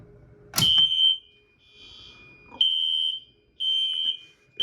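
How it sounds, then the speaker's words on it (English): During a security system test, a fire alarm sounds several loud, piercing electronic tones in an on-off pattern, with a sharp click before the first and quiet gaps between them. "we'll go back to the fire alarm."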